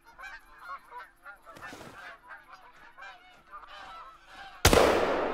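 About fifteen Canada geese honk as they land nearby, a clear run of repeated calls in a quiet field, cut off by a sudden loud blast at the end.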